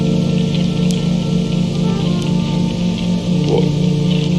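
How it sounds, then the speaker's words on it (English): Steady rain falls throughout, a dense, even hiss of drops spattering on surfaces outdoors near an awning, with no voices heard. "It's still raining. Why is it still raining?"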